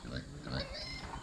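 A pig snorts and grunts close by in short, repeated rough bursts, with a person talking over the animal noises.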